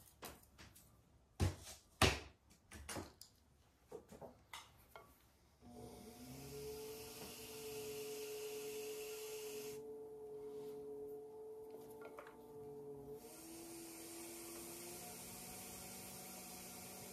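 Clay noodle bowl being trimmed on a spinning pottery wheel, with scattered knocks and handling at first, then a steady whirring hum and scraping tone under a faint hiss, close and fairly quiet.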